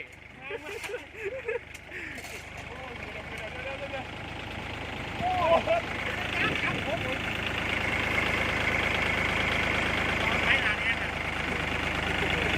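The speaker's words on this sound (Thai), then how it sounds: "เบิ้งผู้บ่าวรถไถครับพี่" A Kubota L5018 tractor engine chugs and revs up, growing louder midway and holding a steady rumble, with people talking over it.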